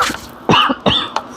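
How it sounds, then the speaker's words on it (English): Two or three sharp, close coughs in quick succession, harsh and throaty, with brief quiet gaps between them. "I apologize for coughing in your ear."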